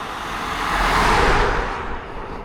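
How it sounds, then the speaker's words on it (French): Road traffic on a street during an outdoor walk: a vehicle's rush swells loud and close around the middle, then fades back into a steady roadway hum, with no talk. "Oh, il y a plein de trafic."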